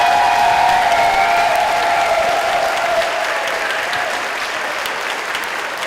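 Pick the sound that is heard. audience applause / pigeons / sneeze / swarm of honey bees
audience applause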